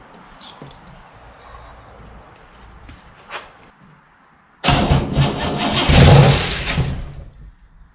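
A Cadillac engine that has sat unused for a while cranks and catches after a quiet stretch, then runs loud and close for several seconds before settling slightly.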